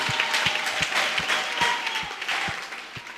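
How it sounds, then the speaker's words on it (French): A church congregation claps steadily and loudly throughout, with a regular low thump keeping time beneath the dense applause. "Applaudis très bien pour le Seigneur des Seigneurs"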